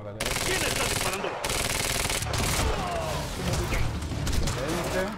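Rapid automatic gunfire and heavy combat noise from the video game Quantum Break, loud and continuous with bursts of shots and mechanical clatter, with voices mixed in.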